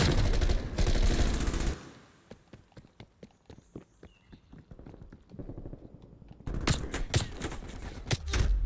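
Gunfire aimed at the player in Call of Duty Black Ops Cold War: loud, dense bursts at the start and end frame a quieter stretch of evenly spaced single shots or thuds in the middle.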